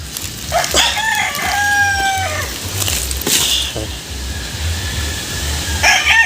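A rooster crows nearby with a long rising-then-falling call, followed by another shorter crow, over low background rumble and faint ambient noise.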